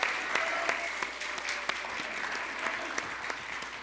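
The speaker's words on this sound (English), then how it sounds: "would you give a big Sherwood Church of the Nazarene round of applause for Rob Hardy?" A church congregation at Sherwood Church of the Nazarene gives a round of applause, steady dense clapping from a nearby crowd that carries on throughout.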